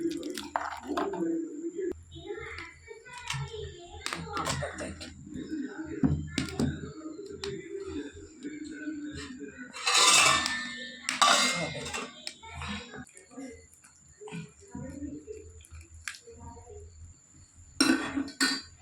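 Fish curry masala being stirred in a pot, then the pot set on the stove for chempalli curry: wet squishy mixing, scraping spoon, and a few loud metallic clanks of cookware midway, near and intermittent with a voice talking between sounds.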